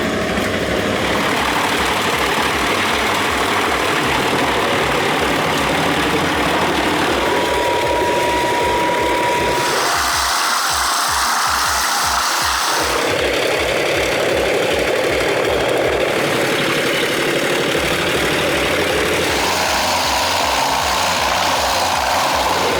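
A JENZ HEM 593 wood chipper mounted on a Cobra truck runs with a loud, steady engine drone. The tone and pitch shift in several distinct stages, over a low rhythmic mechanical pulsing, with no voices.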